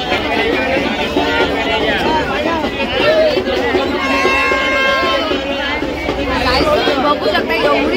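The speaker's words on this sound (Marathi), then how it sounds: "खूप जास्त गर्दी झालेली आहे आता" Dense crowd chatter fills a busy village fair in Alibag, many overlapping voices babbling loudly and continuously nearby.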